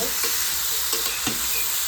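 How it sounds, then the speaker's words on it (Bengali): Whole green chillies, garlic and chicken fry in a pan for a Maggi-style chicken dish, giving a steady close sizzle broken by several scraping stirs of a spatula, with no talking. "এবার একটু ভালো করে নেড়ে নেব"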